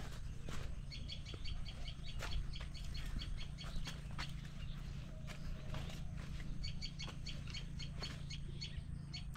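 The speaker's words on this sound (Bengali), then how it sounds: "এটা মনে হয় টুনটুনি পাখির আওয়াজ।" Repeated bursts of high, rapid chirping from a common tailorbird in a quiet village setting, calling in short clustered phrases at moderate distance over a low rumbling background.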